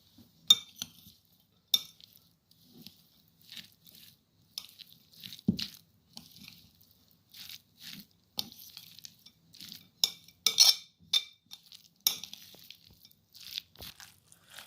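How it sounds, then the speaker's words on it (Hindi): A spoon mixes egg sandwich filling with mayonnaise in a bowl, giving quiet, irregular clinks and soft scraping taps against the bowl in a calm room. "अब इन सब चीज़ों को हम अच्छे तरीके से मिक्स कर लेंगे।"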